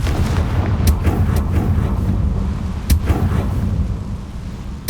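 A Confringo fire spell explodes in Hogwarts Legacy, heard as a steady low rumble broken by three sharp, booming bursts spaced about two seconds apart.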